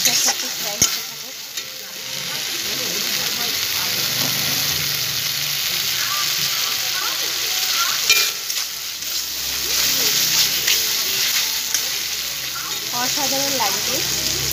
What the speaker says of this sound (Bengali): চর্বিটা মাংসের সঙ্গে মশলার সাথে ফ্রাই হতে থাকে।